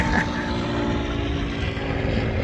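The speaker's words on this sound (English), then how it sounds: "Already 3 coming, 2 helicopters and 1 plane." Aircraft engines drone steadily as two helicopters and a plane fly over the erupting volcano in Iceland, a continuous broad rumble with rotor pulsing, under a voice talking throughout.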